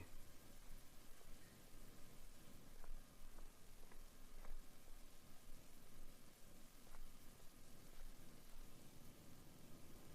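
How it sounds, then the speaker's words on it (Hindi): Steady rain pours down at night in a quiet village square, a continuous dense hiss with a few faint drip-like ticks and no voices, used as a sound effect in an animated horror story. "बस बारिश की आवाज बाकी रह गई थी।"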